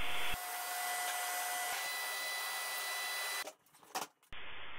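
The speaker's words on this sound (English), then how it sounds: "it might be worth vacuuming out all the rivets you've drilled out and the foam packing material that's left inside" A vacuum cleaner sucks drilled-out rivets and leftover foam packing from inside an aircraft wing, a steady loud whine running for several seconds before briefly cutting and sputtering, then resuming.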